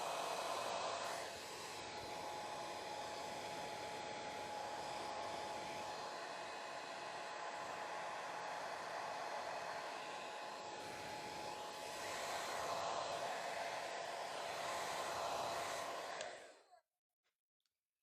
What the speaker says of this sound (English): So that's why I'm using my hair dryer.